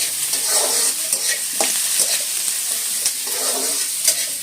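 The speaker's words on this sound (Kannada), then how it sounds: "ಪಲ್ಯಕ್ಕೆ ಮಾತ್ರ ಒಗ್ಗರಣೆ ಹಾಕ್ತಾ ಇದ್ದೀನಿ" Steady loud sizzling of spices tempering in hot oil, with occasional stirring scrapes, no voices.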